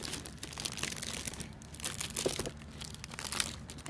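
Heavily taped packaging for a BTS V Flower Buddies artist-made collection item being torn open, with steady close crinkling, crumpling and ripping of tape and wrap running throughout, with no voices.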